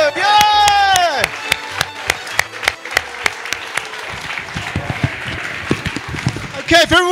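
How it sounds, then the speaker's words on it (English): A chapel congregation at a spring celebration service claps in a dense burst of separate hand claps, with talk and a tonal voice or music sweep at the start, fading into scattered claps. "give yourselves a round of applause"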